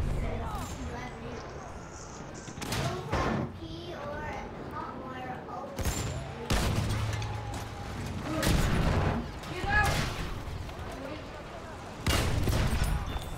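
Bursts of gunfire in Battlefield 1 hitting and surrounding a vehicle, loud irregular volleys of shots and impacts repeating over several seconds, with a player talking over them.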